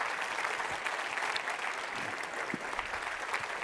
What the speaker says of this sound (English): please give them a round of applause as they go off